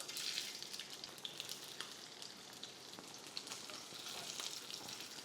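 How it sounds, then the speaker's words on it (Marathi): Boiled potatoes and mustard seeds fry in ghee in a pan, giving a steady, busy sizzle with crackling pops and light stirring throughout, fairly close and with no talking. "ह्याला छान परतून घ्यायचं"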